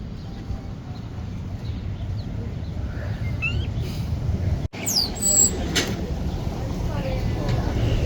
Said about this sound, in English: Hello, little birds.